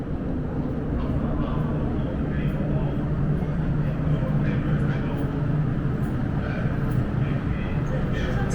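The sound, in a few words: MTR Island Line M-train arriving at North Point station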